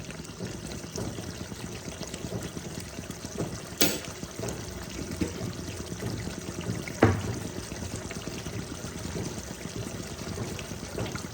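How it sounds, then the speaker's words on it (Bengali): Amul full cream being poured in a thin, faint stream into a pan of chhanar dalna, a Bengali paneer curry, with two brief clinks against the vessel over low kitchen background noise. "আমি এর মধ্যে অল্প আমুলের যে ফুল ক্রিম আছে সেটা আমি অল্প দিয়ে দিলাম।"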